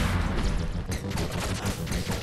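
Cannon fire in the Owlboy video game, a dense run of gunfire-like bursts and booms rolling steadily over about two seconds, fairly loud and busy with no clear gaps.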